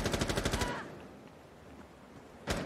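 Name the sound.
gunfire in Rainbow Six Siege video game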